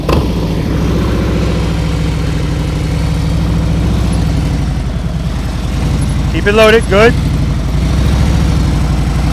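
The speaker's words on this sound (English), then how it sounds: "Now I'm listening to his engine." A motorcycle engine runs at low idle during slow-speed riding practice, a steady low rumble throughout while someone talks over it and another voice calls out briefly.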